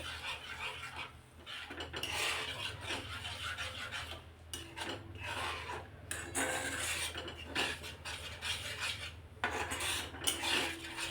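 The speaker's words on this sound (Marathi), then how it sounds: "हे मिक्सरचं जे भांडं आहे तेच, त्यामध्येच थोडंसं पाणी टाकून मी या मसाल्यामध्ये मिक्स करून घेते." A spoon stirs ground masala with a little water inside a steel mixer jar for a cashew curry gravy, giving continuous scraping and clinking metal sounds with irregular rhythm, close and fairly quiet.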